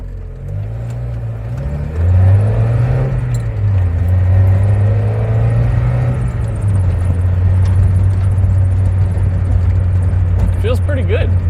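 A Mazda NA Miata fitted with Mazda Competition engine mounts drives out onto the road, its engine droning steadily and rising in pitch as it accelerates, with road rumble underneath and a faint jingle near the end.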